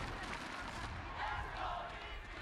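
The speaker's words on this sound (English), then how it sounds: "listen to this crowd." An esports arena crowd at the Game Changers 2023 Championship, during the G2 Gozen vs Team Liquid Brazil lower final, roars and chants in a dense, sustained wash of cheering and shouting that swells slightly toward the middle.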